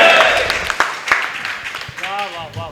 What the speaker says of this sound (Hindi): एक बार पूरा सदन तालियां बजाए भारत माता की